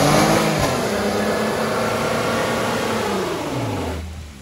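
A Dodge 4x4 truck engine churning through mud roars loud and steady up close, its pitch rising and falling as it labors, then the revs drop away near the end.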